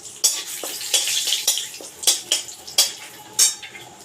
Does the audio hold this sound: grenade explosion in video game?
no